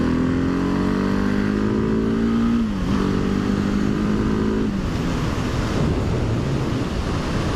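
Husqvarna 701 Supermoto single-cylinder engine revving hard against the rev limiter, a loud close droning roar with stuttering pitch dips, then settling into a rougher lower throb.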